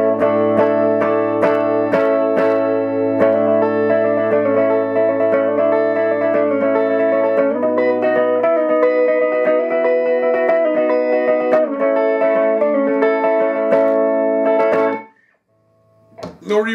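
Bass played through a Quilter ToneBlock 200 amp with flat EQ and no reverb, a loud sustained run of plucked notes and chords lasting about fifteen seconds before cutting out, followed by a few quiet plucks.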